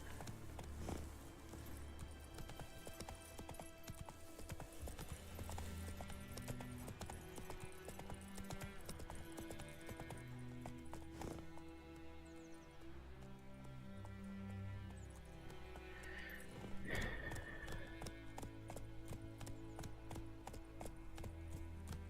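Roach, Geralt's horse in The Witcher 3, gallops along with steady rhythmic hoofbeats under orchestral game music, the pounding clip-clop continuing throughout with a brief snort or whinny partway through and no talking.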